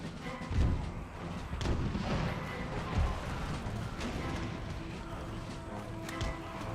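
Cannon and artillery guns firing across a battlefield in Empire: Total War, with several deep booms spaced irregularly over a steady rumble of combat noise.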